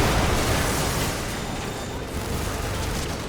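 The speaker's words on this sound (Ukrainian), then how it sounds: "Оце стіну пробиваємо цими танками." Tanks smashing through a wall during a Call of Duty: Modern Warfare 3 mission, a dense, continuous roar of explosions and gunfire with a heavy low rumble that holds steady and loud throughout.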